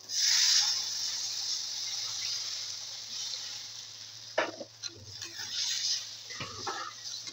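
Water poured into oily, fried masala in a pan for a shrimp dal: a loud hissing sizzle bursts up at once, then settles into a steady frying hiss broken by a few utensil knocks and stirring scrapes.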